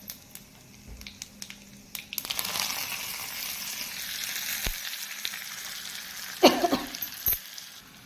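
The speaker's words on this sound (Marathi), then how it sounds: "तडक्यासाठी आपण इथे तूप गरम करून घेतलेलं आहे आता त्यामध्ये घालूया जिरं आणि कोथिंबीर" Cumin and coriander dropped into hot ghee for a tadka burst into a loud, crackling sizzle after a quieter start, with occasional clinks and scrapes of a utensil close by.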